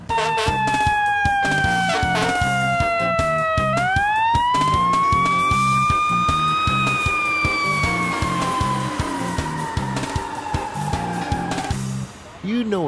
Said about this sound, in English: big red fire truck races away.